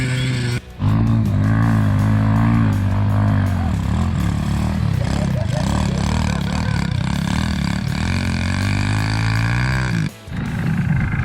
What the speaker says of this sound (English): Here comes Dad on his heavily modified RGV 150.